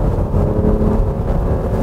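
A Cadillac XT6 engine revving hard in sport mode, pulling steadily toward 7000 rpm with a continuous, loud, droning roar and no speech.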